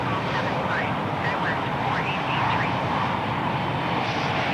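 Airliner engine roar from an American 737 landing on runway 25 left at Los Angeles International Airport in Microsoft Flight Simulator 2020, a steady loud jet rumble throughout with no talk.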